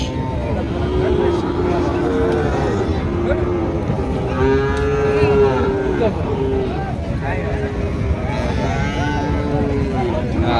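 A thirteen-month-old Sahiwal bull lows repeatedly at a busy livestock market, its drawn-out moos rising over steady crowd babble and nearby talking.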